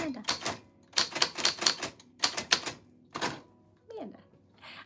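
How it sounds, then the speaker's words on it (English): A manual typewriter clatters in quick bursts of keystrokes with short pauses between runs, close and crisp, ending with a faint carriage sound. "This is the typewriter."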